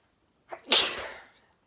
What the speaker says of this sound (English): Sneeze all over myself.